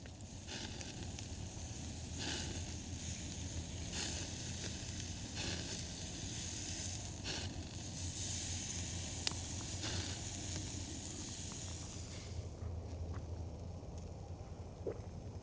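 Bacon sizzling over a campfire on a new fire grate beside a lake, a steady close hiss and crackle that runs throughout with faint outdoor ambience and a few small pops.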